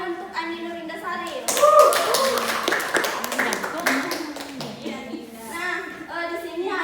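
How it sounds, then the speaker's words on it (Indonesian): Brief classroom applause from a group of pupils, a burst of clapping over a few seconds amid children's voices, with a teacher talking before and after. "Tepuk tangan untuk Andi Nurindasari."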